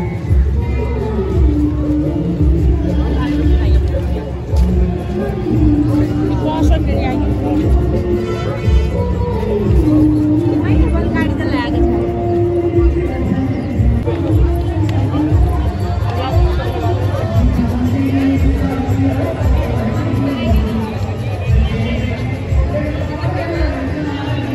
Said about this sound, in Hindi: बहुत ही ज्यादा भीड़ हो रही है। आपको दिखाती हूँ।